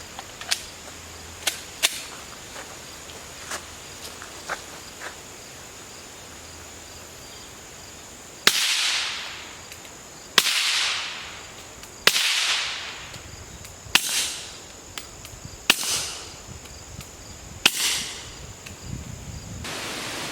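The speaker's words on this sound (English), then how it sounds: "We have 3 rounds of American Eagle TMJ, which should be supersonic, and then we have 3 rounds of the R.A.N.G.E weapon systems 55 grain subsonic for the pistol." Suppressed .22 pistol fired through an AAC Halcyon suppressor, supersonic American Eagle and subsonic 55-grain rounds, six sharp cracks spaced a couple of seconds apart over outdoor insect chirping, with faint light clicks before the shots.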